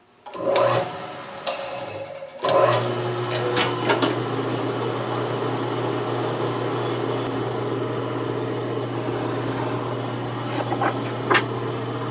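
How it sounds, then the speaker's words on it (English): A steady power drill whirs continuously after a brief start and stop, a loud, close mechanical drone with faint grinding as it bores through wood. "Just going to drill it through."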